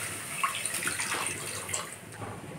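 Milk pours into a pan holding oil while making bread payesh, a brief, soft splashing trickle heard up close with no voices.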